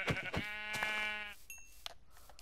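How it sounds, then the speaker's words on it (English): A Minecraft sheep gives two or three short, quiet bleats close by, each one a nasal, wavering cry, followed by faint background game sounds. "there's a sheep right there"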